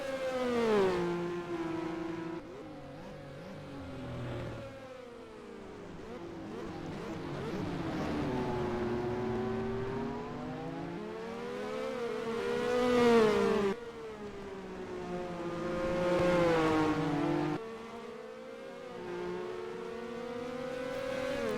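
Formula 1 race car engines in the video game NASCAR Racing 2003 wail steadily, pitch rising through each gear and dropping sharply at shifts, with several cars whining together in a continuous loud drone.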